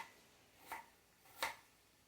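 Two quiet, separate knife chops on a cutting board as food is cut for homemade spaghetti sauce, isolated and fairly faint.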